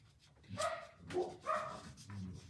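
Puppies bark and yip behind a wall indoors, in a few muffled, fairly close bursts over low room noise.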